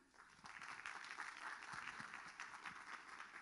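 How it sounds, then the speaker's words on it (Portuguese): Conference audience at WordCamp 2018 gives a short, brisk round of applause, individual claps audible within the crowd's steady patter, a little distant. "uma salva de palmas, por favor"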